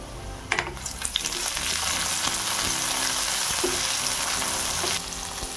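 Tomatoes tipped into a pan of softened golden onions frying, with a loud steady sizzle and clatter of stirring throughout, a few sharp spatula knocks near the start, and the hiss easing slightly toward the end.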